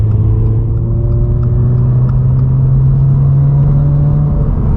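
A 2022 Subaru BRZ fitted with an MST cold air intake runs close by with a steady, deep engine drone and a faint rising pitch, loud and with no voices.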